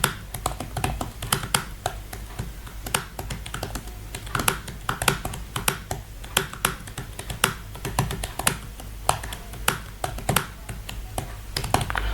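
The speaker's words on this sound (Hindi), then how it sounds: "इधर चलें 1-2 लाइन में टाइप कर देता हूँ।" Steady, fast typing on a computer keyboard during a Typing Master practice exercise, with dense, close keystrokes clattering in an even rhythm throughout and no talking.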